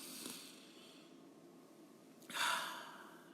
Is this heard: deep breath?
yes